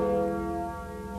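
The Freedom Bell at Schöneberg City Hall in Berlin rings out with one loud, sustained, richly layered tone that slowly fades, with no voices over it.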